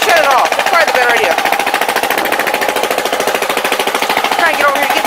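A John Deere garden tractor engine fitted with new headers runs close and loud, a rapid, harsh, machine-gun-like exhaust rattle that holds steady throughout, with a voice briefly audible over it.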